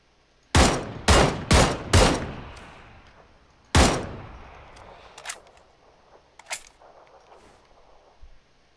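Gunfire in a battle royale video game: a rapid burst of four loud, close shots, then a single heavy shot, followed by a few fainter distant shots fading out.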